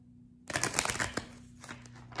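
A burst of soft papery riffling and flicking as tarot cards are shuffled, close and fairly quiet, tapering off into lighter rustles.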